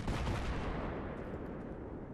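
Video-game gunfire aimed at a tank booms as a heavy, low rumbling blast that decays over about two seconds, fairly faint and with no talk.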